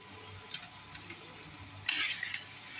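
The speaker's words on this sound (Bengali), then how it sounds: "শাকটা এখন তেলে ভেজে নেব" Leafy greens go into hot oil with dried chilli, onion and garlic, giving a quiet steady sizzle broken by a couple of brief scraping stirs, close by.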